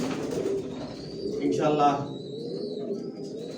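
Pigeons coo in a loft, a steady low murmuring chorus that carries on throughout, with a voice briefly speaking over it partway through.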